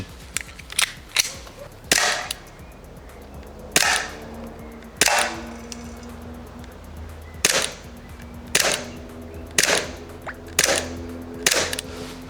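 A Glock blowback air pistol fired repeatedly, about a dozen sharp cracks spaced unevenly every second or so, each with a brief mechanical clack of the sliding action, close and loud with a steady background hum.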